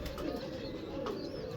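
Pigeons coo in low, murmuring tones, soft and continuous against a noisy background.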